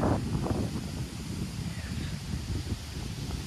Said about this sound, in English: Ooh, it's gonna be windy.